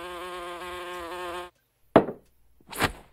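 A cartoon housefly buzzes in a steady, harmonic drone for about a second and a half, then cuts out, followed by two short sharp knocks.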